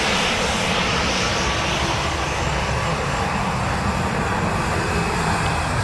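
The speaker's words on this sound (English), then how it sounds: "Norwegian getting ready to depart. Boeing 737 MAX 8 off to Copenhagen." A Norwegian Boeing 737 MAX 8 departing Dublin Airport's runway 10R, with a loud steady jet engine roar at takeoff thrust filling the whole stretch, unbroken and close.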